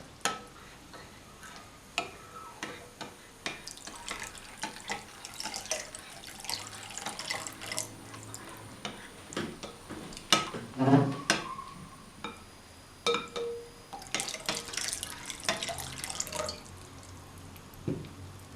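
Water poured into a yogurt mixture for Hatay-style yogurt soup, heard as intermittent trickling, splashing and clinking utensil taps in a kitchen, moderately close and without speech.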